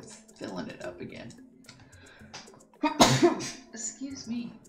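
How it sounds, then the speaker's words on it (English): A single sudden sneeze bursts out midway, loud and close, between stretches of quiet talk and light keyboard tapping at a computer. "Oh, I'm about to sneeze."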